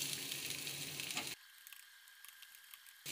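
Chillies fry in hot oil for chilli chicken, giving a dense, bright sizzle that drops abruptly to a quieter crackle with scattered pops, heard close.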